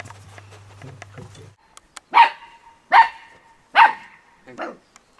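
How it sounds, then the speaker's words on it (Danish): A dog barks loudly indoors, four sharp separate barks at an even pace after a stretch of quieter background sounds and a low hum. "Han gør højt."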